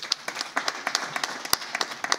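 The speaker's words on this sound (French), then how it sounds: "Vous allez vous applaudir très fort" Audience applause for members of Youth Connect Burkina at a national youth day broadcast event, a steady patter of many hands clapping at moderate distance, with scattered sharper claps standing out.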